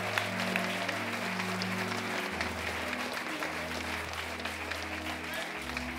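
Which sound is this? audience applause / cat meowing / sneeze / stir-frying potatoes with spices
audience applause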